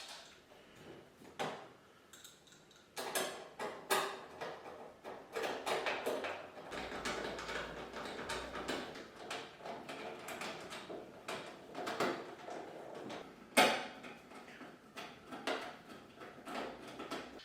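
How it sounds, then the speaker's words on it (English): Torx T20 screws being driven into the outer front door panel of a Bosch dishwasher, with faint scattered ticks and clicks of the screwdriver and metal handling, quiet and close, with no talking. "Lower the door and screw the 4 Torx T20 screws in place."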